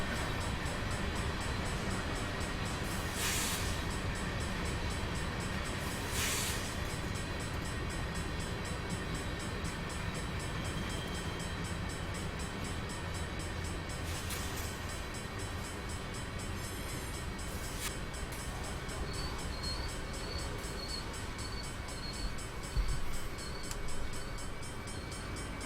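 Union Pacific ES44AC locomotive rolling over Sherman Hill in Train Simulator 2016: a continuous low rumble of rail running, with several short horn blasts and a few clanks toward the end.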